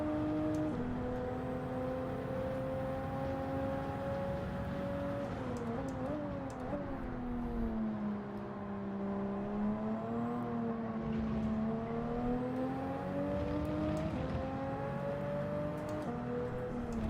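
Mazda Atenza race car engine in the racing game Gran Turismo 7 at Laguna Seca, a sustained, fairly faint droning whine that climbs and dips in pitch with throttle changes for the whole stretch, no talking.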